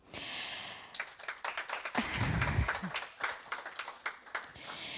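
An audience at an inland navigation event applauds, with scattered, uneven claps building into a fuller burst and then thinning out over a few seconds.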